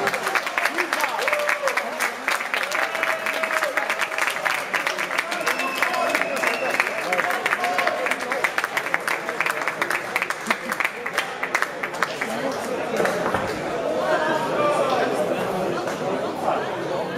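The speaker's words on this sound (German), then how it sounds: "Nochmal hier Applaus für die beiden Jungs." A crowd at a sports event applauds two young athletes in a long, sustained round of clapping mixed with crowd chatter, with voices talking over it toward the end.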